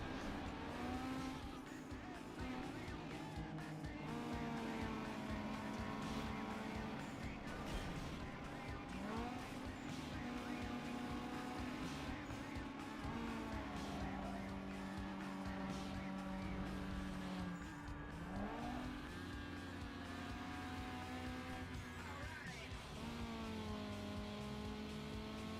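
Racing car engines with nitrous in an old racing video game featuring a Mitsubishi Eclipse, a steady droning whine that rises and shifts pitch with gear changes, with brief tire squeals and a voice speaking over it.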